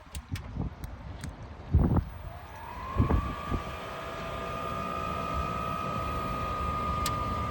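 A Chinese diesel parking heater with a glow plug, installed in a step van, starts up. After a few clicks and thumps, a whining tone rises and settles into a steady, fairly quiet hum over a soft airflow rush.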